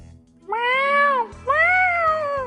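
Two drawn-out, loud meows from a cat close by, one after the other, over a faint background hum.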